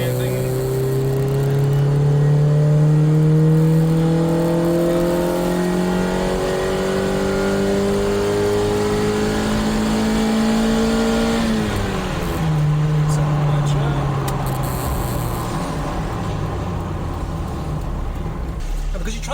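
Car engine under hard acceleration on a road test after a Core EFI engine management install with plug-and-play harness and base tune, revs climbing steadily through a long pull, then a gear change at about twelve seconds and the revs building again, loud and close.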